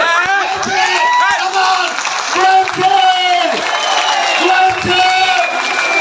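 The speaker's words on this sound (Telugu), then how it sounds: "మిమ్మల్ని లేచి ఒకసారి చప్పట్లు కొట్టాలి" An audience at a live meeting in Hyderabad claps together after being asked to stand, a dense steady patter with some cheering, while a voice keeps talking loudly over it.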